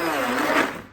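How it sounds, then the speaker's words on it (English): An immersion stick blender whirs loudly as it chops ingredients, a steady high-pitched motor drone lasting about a second before cutting off abruptly. "But the first thing I want to do is use this immersion blender"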